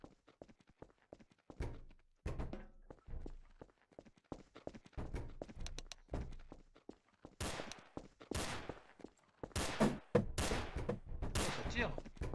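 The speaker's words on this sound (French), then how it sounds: "Oh, ça tire." Gunfire in a Garry's Mod roleplay game rings out as a string of sharp, loud shots in uneven bursts, growing denser toward the end.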